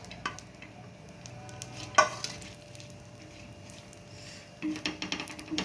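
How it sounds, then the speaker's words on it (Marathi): Grated coconut roasting in a pan with a soft, quiet sizzle, stirred with a spoon that scrapes and clinks against the metal, tapping more busily near the end. "आता यामध्ये आपण खोबरं घालून घ्यायचंय खोबरं देखील आपल्याला परतवून घ्यायचंय"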